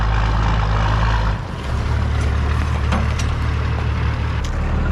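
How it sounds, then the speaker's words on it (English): A 1979 Ford pickup with a naturally aspirated 12-valve engine roars loudly through a burnout, a heavy droning engine note that dips briefly then surges back, with tire scrubbing and clatter on top. "Does it make enough horsepower to do a burnout?"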